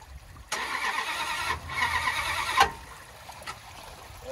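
A Dodge Dakota truck's engine runs roughly after a jump, with its muffler almost underwater. After half a second of quiet it kicks in loud and close, then churns on unevenly with a few sharper surges and no talking.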